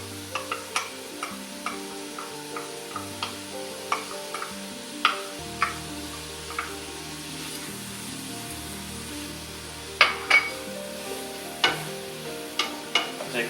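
Chopped garlic and shallots sizzle softly in a pan for coq au vin, with frequent light taps and clicks of stirring throughout.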